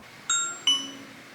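An Amazon Echo sounds a smart battery doorbell chime, two bright ringing tones about a third of a second apart, each fading away, close and clear with no talking.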